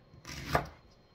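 A knife cutting through an onion into thick slanted slices for Japanese chicken nabe, a single crisp chop on a board, short and close, with no talk.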